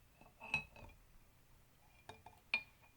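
An egg is lowered into a glass of unsalted water, bringing a few sharp glassy clinks and taps close by, separated by quiet gaps, with a faint trickle of liquid.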